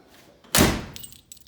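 Car keys jangling at the door of an Oldsmobile Jetfire with automatic transmission, a sharp bright metallic burst up close that trails into a few lighter rattles and clicks.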